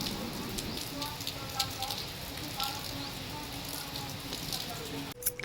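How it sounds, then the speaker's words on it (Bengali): Rain falls outside a home in a soft, steady hiss of patter, faint and continuous, with quiet indoor voice sounds and a brief clatter near the end. "আর এদিকে দেখো বাইরে কি বৃষ্টি হচ্ছে।"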